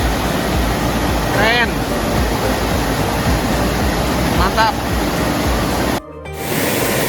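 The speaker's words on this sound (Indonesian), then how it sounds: "kita di pinggir sungai ini guys" Steady rushing flow of a river beside a family campsite at Ciherang Riverside in Rancabali, a broad continuous wash filling the scene, with brief voices speaking over it before it cuts off near the end.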